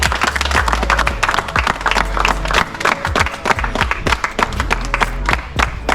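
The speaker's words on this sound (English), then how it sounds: "I will give them a round of applause." Street crowd claps and cheers together outdoors, loud dense applause with sharp individual hand claps close by, plus low rumbling background noise from the surroundings.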